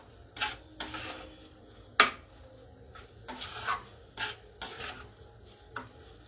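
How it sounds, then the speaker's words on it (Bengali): Spices for cheese paneer bhurji frying in a pan while a spatula stirs and scrapes, producing irregular scraping strokes over a soft sizzle, close and with no talking. "এটার এখন একটু মশলাটা ভালো করে একটু ভাজা ভাজা বা কষা কষা হয়ে গেলে"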